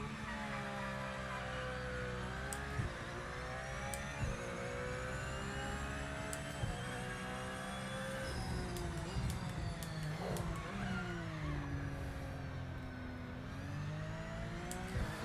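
Simulated Porsche 992 race car engines drone and rev continuously in Project Motor Racing at the Nürburgring GP circuit, with a steady loud roar whose pitch rises and falls through gear changes.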